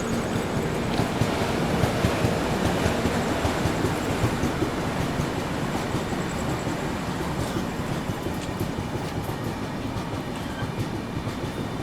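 A special passenger train rumbles along the parallel track beside the Humsafar Express, producing a loud, steady roar with rhythmic wheel clatter that slowly eases.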